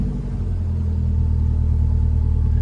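A Honda S2000 engine idles steadily with the air conditioning switched on, a close, constant low rumble with a faint steady hum and no revving, heard alone without voices.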